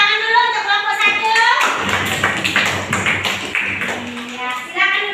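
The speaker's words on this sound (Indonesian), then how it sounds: "Kita beri tepuk tangan dulu untuk kelompok 1" A classroom audience claps for presentation group 1, a short burst of brisk hand claps in the middle, with speech before and after it.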